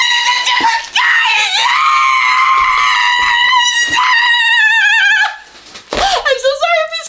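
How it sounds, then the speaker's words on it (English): A loud, sustained high-pitched scream from a person, held for several seconds with a few short breaks and a final rising shriek, close and piercing. "I'm so sorry if he's screaming."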